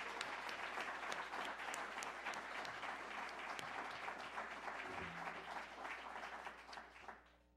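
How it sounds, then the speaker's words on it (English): A conference audience applauds a panel moderator before she comes to the stage: sustained, full clapping from many hands with a few crisp individual claps, fading out at the end. "if we can give Gina a round of applause for that"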